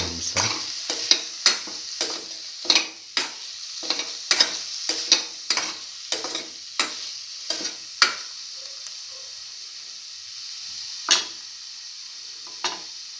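Eggplant pieces and green chili sautéing in a pan, a steady sizzle broken by repeated sharp scrapes and knocks of a spatula stirring, close and moderately loud, no talk.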